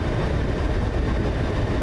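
A C2C Class 357 passenger train pulling out of a station, a loud steady low rumble and roar held close throughout with no pauses.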